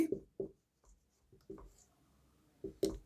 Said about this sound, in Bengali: আমি লিখে দিচ্ছি এখানে